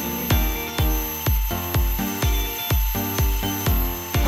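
A woodworking router fitted with a large bit cuts stool parts in a woodshop, giving nine evenly spaced, loud surging passes, each a sharp onset followed by a whining drone with a steady high tone throughout.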